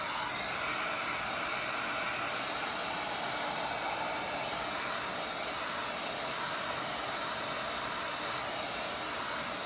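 A handheld torch heats torch paste on wood for wood burning, giving a constant soft roaring hiss, steady and even throughout with no voices.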